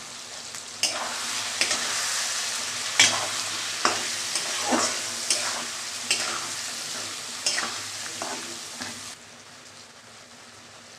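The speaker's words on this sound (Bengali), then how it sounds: "আর একটু কষিয়ে নেব" Potato pieces sautéing in a pan, sizzling loudly while a utensil stirs and scrapes in regular strokes about once a second, then the sizzle drops off sharply near the end.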